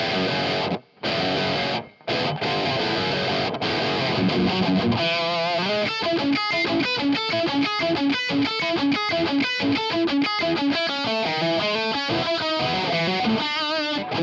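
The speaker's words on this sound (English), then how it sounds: "We'll swap guitars just so you can hear the RR5 in comparison." A distorted electric guitar through a Boss Katana MkII amp chugs through a rhythmic riff, loud and dense, with a couple of brief pauses early on before the steady pattern settles in.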